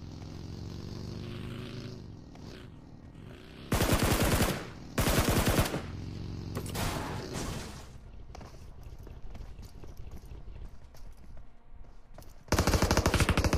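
Gunfire in a battle royale shooter game, several loud bursts of rapid automatic fire separated by quieter stretches with a droning vehicle engine underneath.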